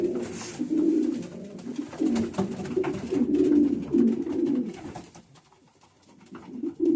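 Pigeons coo steadily nearby in low, throaty rolling phrases, repeating without pause, fading briefly near the end before resuming.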